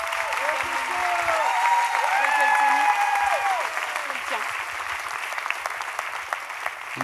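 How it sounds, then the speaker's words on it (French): Audience at a fashion show applauding, a sustained dense roar of clapping that swells then slowly fades, with a voice and tonal sounds faintly underneath. "un tonnerre d'applaudissements"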